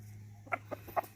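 Chickens on Kauai, including a large plump hen and a rooster, give a few short clucks spaced about a quarter second apart, faint and close over a steady low hum.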